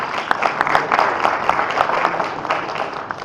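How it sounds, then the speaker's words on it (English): Audience applause at a chemicals company launch event: a room full of people clapping steadily for about three seconds, with sharp individual claps standing out from the dense, even patter. "A round of applause for Adnan, please."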